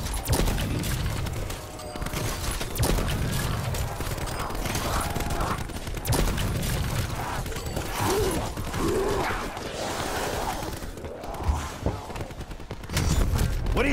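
Sustained volleys of gunfire from the video game Call of Duty: Black Ops 4, dense and continuous bursts across the whole stretch, with scattered mechanical clatter and brief voices in between.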